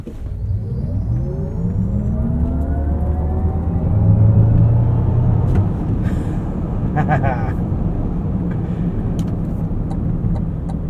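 An electric 2025 Cadillac Escalade iQ SUV accelerates from 0 to 60, giving a rising whir and road rumble from inside the cabin while a person talks over it.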